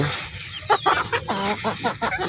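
Young two-month-old cockerels cluck in a loose, overlapping series of short calls at wet-feeding time, close and fairly loud, with no talking.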